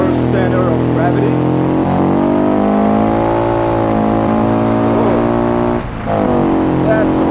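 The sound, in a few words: car with boxer engine revving at land speed challenge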